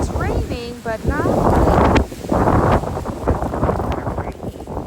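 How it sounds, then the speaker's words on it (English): Strong gusts during Hurricane Beryl buffet the microphone with heavy, rumbling wind noise that runs throughout while a person talks over it. "It's super windy."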